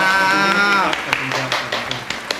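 A studio audience on a Thai talk show gives a short burst of scattered applause for the guest, a few sharp claps following a voice and mixing with ongoing talk.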